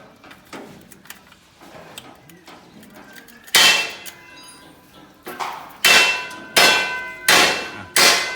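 Loud, sharp metallic clangs from hammer blows on a metal engine part while removing a piston from an International 440 hay baler, sparse at first then a steady run of heavy strikes, close by.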